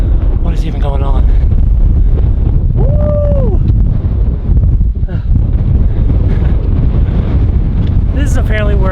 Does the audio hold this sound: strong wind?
yes